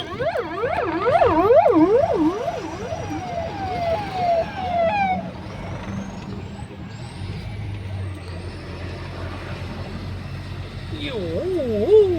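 A police car siren wails up and down nearby, heard from a truck on the road, fades out partway, then briefly returns at the end, with a truck's air brake hissing and some background voices.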